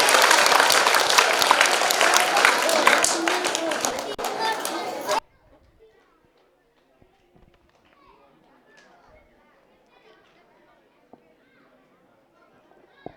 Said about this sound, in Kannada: ದಯಮಾಡಿ ಎಲ್ಲರೂ ತುಂಬ ಹೃದಯದ ಚಪ್ಪಾಳೆ ತಗೊಳ್ಳೋದ್ರ ಮುಖಾಂತರ ಪ್ರೋತ್ಸಾಹಿಸಬೇಕು